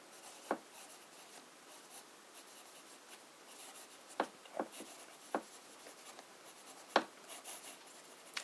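Broad fountain pen nib writing with Noodler's Apache Sunset ink, soft scratchy strokes on paper with a handful of sharper ticks as the nib lifts and lands, quiet and close.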